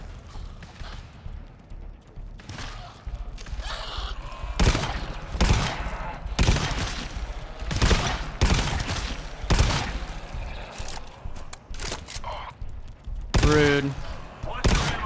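Heavy gunfire in GTFO, with repeated loud shots and rapid bursts in uneven clusters from a Hel rifle and double-tap weapon, intense and close, with brief voices among the shots.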